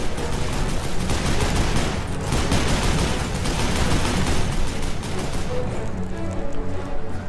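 Sustained, dense turret gunfire from a first-person Western shooter, Call of Juarez: Bound in Blood, a continuous loud rattle of rapid shots that barely pauses for over seven seconds before easing slightly at the end.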